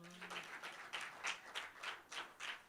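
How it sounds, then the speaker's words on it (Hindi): Faint, evenly paced clapping in a steady beat rises from a poetry gathering audience, sounding distant and soft throughout. "तालियां बजाओ"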